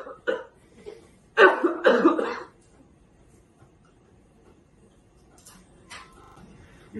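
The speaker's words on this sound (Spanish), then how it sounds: "utilizando la mascarilla, a toserle al medio de cultivo" Coughing through a face mask onto a culture medium, two or three close, muffled bursts in quick succession followed by quiet.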